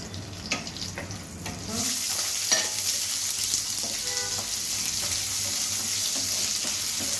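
Curry leaves tempering in hot oil give a loud, steady sizzle that swells after a couple of seconds, with a few light scrapes and clinks near the start.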